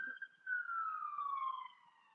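A single police siren wail sweeps slowly downward, clear and fairly near, with no one talking over it.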